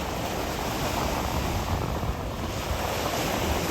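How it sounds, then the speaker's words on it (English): Ocean waves at South Beach, Miami, on a Friday night: a steady, dense wash of surf with heavy wind rumble on the microphone, continuous and unbroken. "Hopefully you guys can hear the waves."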